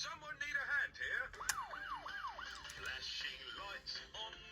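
A VTech toy police car sounds its electronic siren in a run of repeated rising-and-falling wails, fairly loud and near, with brief toy noises and faint voice sounds around it.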